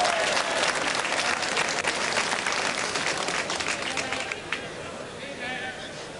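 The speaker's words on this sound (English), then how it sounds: "Listen to the crowd now." Roaring football stadium crowd cheering and applauding at a 1985 match, a loud continuous wash of noise that eases off toward the end as a commentator speaks.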